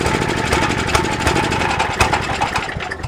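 A small engine on spring startup is cranked and runs with full choke and half throttle, giving a loud, continuous rough chugging and rattling clatter with no talking.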